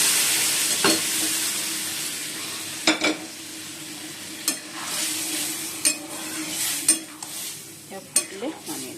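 Chana dal sizzles steadily in hot oil in a pan while a spoon scrapes and knocks against the metal in irregular strokes, close and clear.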